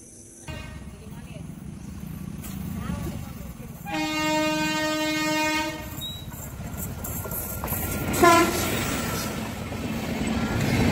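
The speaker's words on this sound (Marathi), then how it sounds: "ट्रेन येईलच आता थोड्या वेळात." A train horn sounds in a long steady blast at a railway crossing in Kokisare, over continuous outdoor rumble and traffic noise, with a shorter toot near the end.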